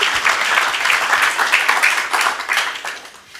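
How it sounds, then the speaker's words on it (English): An audience at a city council meeting breaks into steady applause, dense clapping holding for several seconds before tapering off at the end. "Let's clap for them"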